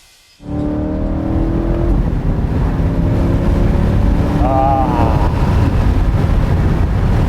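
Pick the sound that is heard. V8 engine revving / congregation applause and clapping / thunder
V8 engine revving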